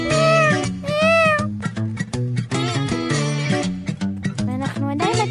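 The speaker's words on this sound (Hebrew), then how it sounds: "מצאתי את החתול השני ללילה." A cat meows repeatedly and loudly at close range, drawn-out rising and falling cries in quick succession with a few shorter chirps, while people talk faintly nearby.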